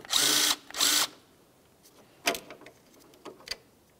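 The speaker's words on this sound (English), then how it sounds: "Let's remove that bolt." A power tool spins out an 8mm headed bolt in two loud whirring bursts, followed by faint clicks and light metallic handling taps.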